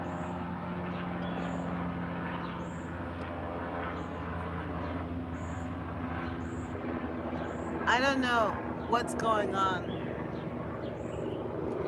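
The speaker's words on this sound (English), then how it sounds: "There's something happening outside here because the helicopters are really low." Helicopters flying low over a city, a steady broad engine drone that fills the whole clip at moderate level, with a person talking briefly near the end.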